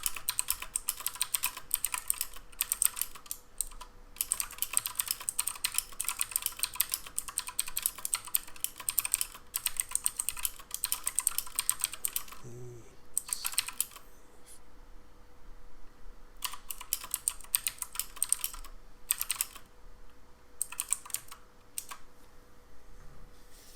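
Fast bursts of clicking keystrokes on a computer keyboard, close and crisp, coming in runs separated by short pauses over a quiet room.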